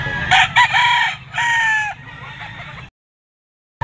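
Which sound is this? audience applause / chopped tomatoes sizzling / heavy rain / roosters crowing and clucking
roosters crowing and clucking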